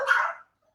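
A dog lets out one short, close bark that trails off quickly into silence.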